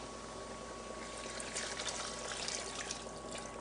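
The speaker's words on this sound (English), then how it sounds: "And I'm going to add my 2 cups of beef stock." Beer and beef stock pour steadily into a cooking pot, a continuous splashing liquid stream at close range with no talking.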